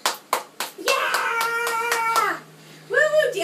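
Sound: child clapping hands while dancing

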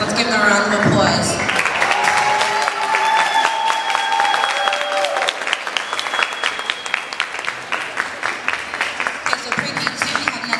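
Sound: applause at a pre-kindergarten ceremony

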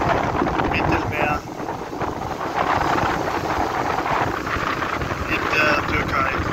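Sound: stormy wind by the Mediterranean sea, Turkey

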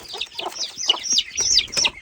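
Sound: chickens clucking

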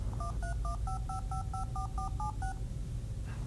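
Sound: Apple Newton device automatically dialing a phone number, DTMF tones

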